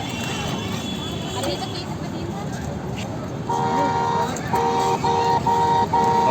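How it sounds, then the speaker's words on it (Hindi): A child's toy ride-on car sounds its electronic horn in several short, evenly spaced beeps, moderately loud, starting partway through over background noise and voices talking nearby. "हॉर्न बज रहा है"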